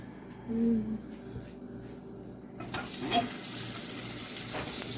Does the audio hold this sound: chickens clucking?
no